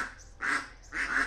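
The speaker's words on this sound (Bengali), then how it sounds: "হাঁসগুলো অনেক সুন্দর, তাই না?" Two loud, nasal duck quacks spaced about half a second apart, close by, with no talking.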